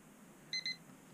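An electronic alarm on a weather station sounds for a malfunctioning refrigerator in a custom-ordered Forest River Sunseeker RV, giving two short, quiet, high-pitched beeps in quick succession over faint background hum.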